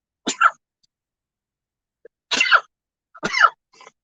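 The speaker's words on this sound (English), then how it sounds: "I got to sneeze." A person sneezes three times in a row, loud and close, with short pauses between bursts, followed by a small breathy sound at the end.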